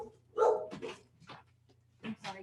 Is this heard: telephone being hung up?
no